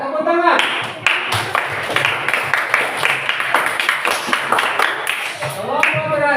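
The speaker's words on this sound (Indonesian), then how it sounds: "Ya, tepuk tangan." Applause from a classroom group after a student presentation, a steady clatter of many hands clapping loudly for several seconds, with voices chattering underneath and a speaking voice at the start and end.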